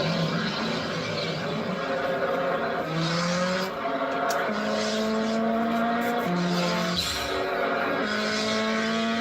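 Racing car engines whine and rise through gear changes, with screeching tire squeals cutting in as the cars speed past.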